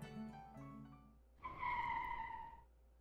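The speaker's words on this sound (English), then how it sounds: "Outside, you hear a car approaching." A car approaches outside in the Minotaur Hotel video game, a rising tire-and-engine whoosh lasting about a second after soft lyre notes fade, moderately loud with a bright tonal whine.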